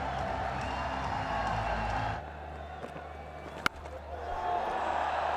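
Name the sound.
crowd cheering for batsman's first ODI fifty at cricket match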